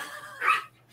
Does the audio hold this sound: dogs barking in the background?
yes